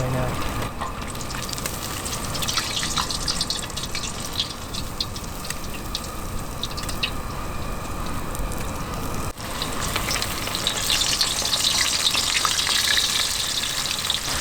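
Sanddab fillets frying in a pan over medium heat, a loud, continuous, dense sizzle that holds steady throughout, close up and with no voices over it.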